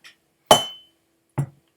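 A whisky glass clinks sharply twice, a bright ring near 0.5 s followed by a shorter, duller tap just under a second later, close and alone with no voices.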